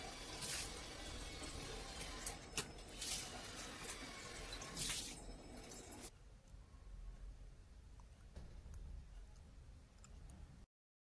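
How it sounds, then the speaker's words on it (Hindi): Water splashes and runs across a bathroom floor as it is poured to wash away dirt, with sharp splashy bursts early on before settling into a quieter trickle and faint drips. "फिर बाथरूम में थोड़ा सा पानी डालती हूँ ताकि सारा कचरा बह के जाए।"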